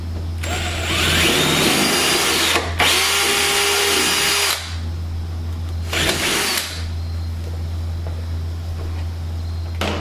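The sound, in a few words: power drill drilling firewall with 3/16 inch bit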